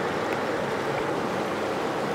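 Creek water flows steadily in the Grand Canyon, a close, continuous rushing wash with no pauses or voices.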